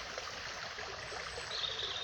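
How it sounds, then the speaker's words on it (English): A small trickle of water runs through a nearly dry river bed in Carndonagh, a faint steady babbling hiss heard alone and close. "This is where the river should be flowing. Little trickle,"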